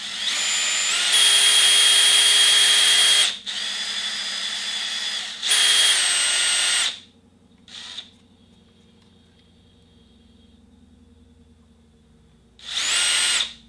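A power drill whirs loudly in several bursts, revving at high pitch, pausing between runs, with quieter mechanical hum and a short final burst.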